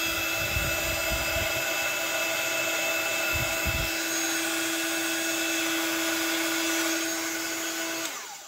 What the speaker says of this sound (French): je vais prendre le heat gun et je vais faire fondre le tout